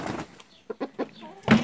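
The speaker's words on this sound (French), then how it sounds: "On sort les poules." Organic ex-laying hens from a new batch of retired birds give a few short clucks and rustle near the microphone, with brief faint sounds between the louder bursts.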